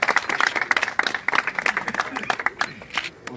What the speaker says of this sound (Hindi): लो जी स्पेशल तालियां होनी चाहिए जी